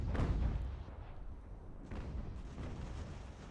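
Artillery fire in the video game Ultimate General: American Revolution, a deep rumbling boom at the start rolling into a dull, muffled battlefield roar, with a second softer thud partway through, heard at a distance.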